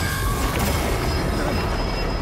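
A train in the Spider-Man 2 video game rumbles loudly and continuously, with a steady grinding roar, metallic wheel squeal and faint clatter filling the whole stretch without any talk.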